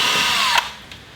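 A power drill whirs loudly and steadily up close while backing bolts out of a Yamaha C3 scooter, then winds down abruptly partway through, leaving a faint whine.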